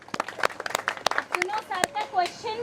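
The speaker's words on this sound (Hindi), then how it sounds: "तालियां" Scattered audience clapping at a stone workshop, a handful of sharp, irregular claps close by in the opening seconds, followed by people talking over the last few claps.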